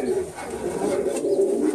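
Pigeons in a Cuban pigeon breeder's loft give a soft, close, repeated cooing with low throaty pulses.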